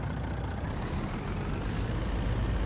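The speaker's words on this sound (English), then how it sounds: "And let's hop in the truck." A truck in the Farming Simulator video game gives a sharp hiss of air brake release over a steady low engine rumble, loud and close, with no talking.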